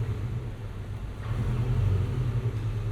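Low, steady rumble of a 2024 Porsche 718 Boxster Style Edition's flat-four engine, heard from inside the car as a deep idle throb that swells slightly midway.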